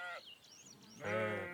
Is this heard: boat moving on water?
no